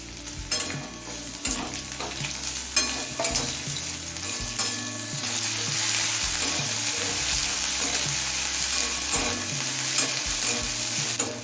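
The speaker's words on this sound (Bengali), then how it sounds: "রসুনটা হালকা করে ভেজে নিয়েছি এবার দিচ্ছি কুচনো একটা বড় সাইজের পেঁয়াজ" Chopped onion frying with lightly browned garlic in a pan for drumstick-leaf dal, a close, continuous sizzle broken by repeated scraping stirs, with no talking.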